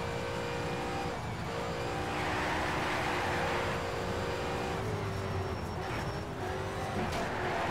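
Car racing in the Need for Speed Shift video game, an Audi versus BMW driver duel: a high-revving engine drones loudly and continuously near the redline, with shifts, tire noise and a brief voice.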